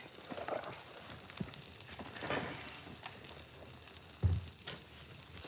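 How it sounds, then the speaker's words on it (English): Country sausage patties frying in a pan, a steady moderate sizzle with occasional pops and a spatula knock, heard up close without talking. "I'm over here making some of this country sausage"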